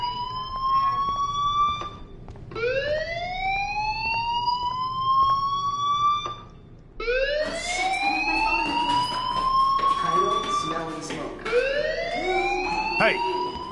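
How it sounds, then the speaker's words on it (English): A school fire alarm in the Life is Strange video game wails in rising, repeating siren sweeps, loud and continuous, with a short gap partway through and other sounds layered beneath the later cycles. "Hey, do you hear that fire alarm?"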